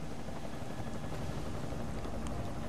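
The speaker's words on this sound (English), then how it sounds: "Enemy helo sighted." An enemy helicopter in Deus Ex: Mankind Divided, a dense, steady rotor and engine roar that fills the short moment evenly at a low, constant level.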